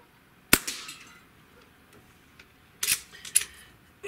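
Diana Airbug CO2 air pistol firing, a sharp snapping crack followed by a brief rattle, then a second pair of quick cracks about two seconds later, close and otherwise quiet.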